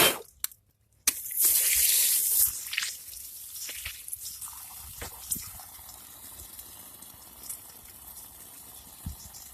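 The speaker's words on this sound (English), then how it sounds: "that's the water that's in the pipes in the house." Water held in a house's pipes flushes out through a leaking tap during a repair, a short loud gush followed by scattered drips and trickles close by.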